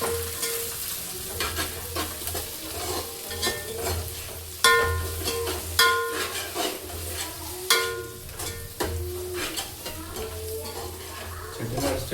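Mushroom gravy with tomato sautéing in a pan for a Chettinad-style dish, a steady loud sizzle with repeated scraping stirs and clinks of a spoon against the pan, no speech.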